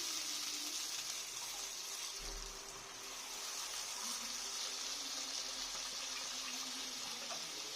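Ground poppy-seed spice water poured into a frying pan for katla posto, giving a steady soft sizzle and watery hiss that hold through the whole stretch, with a slight dip midway and no talking.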